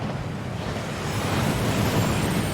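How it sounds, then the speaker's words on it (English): A waterfall rushes in the video game Hogwarts Legacy, a steady, dense roar of falling water that swells slightly and continues unbroken, with no voices over it. "That waterfall washes away all enchantments."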